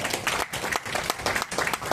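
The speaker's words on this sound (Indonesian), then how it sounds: "yuk kita kasih tepuk tangan untuk Gema Pesona" A crowd claps in a sustained burst of applause at a neighborhood community meeting. The dense clapping is loud and continuous, and no talking is heard.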